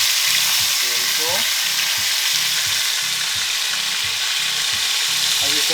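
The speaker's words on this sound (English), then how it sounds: "We're gonna slightly brown them on both sides" Thin T-bone steaks browning in a hot pan give a loud, steady sizzle and crackle that fills the whole stretch, with a faint rhythmic low tapping underneath.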